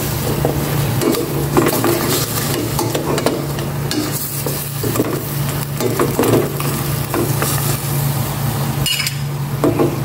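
Oil heats in a pan for fritada with a loud, steady sizzle, mixed with frequent spatula scrapes and metallic clanks over a constant low hum.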